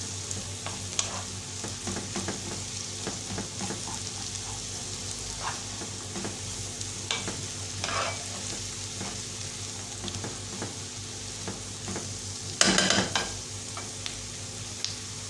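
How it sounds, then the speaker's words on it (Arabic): Onions fry in fat in a pan while being stirred for an Egyptian kebab stew, with a steady quiet sizzle broken by occasional scraping stirs and one louder clatter near the end. "بصوا العلو بتاع البصل ده كله ما يدبل كده بيقل في الحجم بتاعه"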